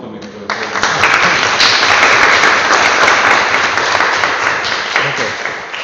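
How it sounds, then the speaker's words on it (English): Audience applause welcoming a lecturer onto a stage. It swells quickly from a few claps into full, loud, dense clapping that holds steady and then begins to fade near the end. "please give a round of applause and welcome him to Paul"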